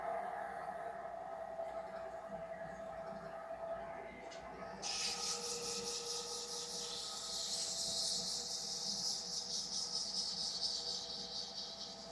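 A pencil spins on a lathe at 700 RPM while being sanded with 320-grit paper. A faint hum runs first, then a bright, steady sanding hiss starts partway through and keeps going.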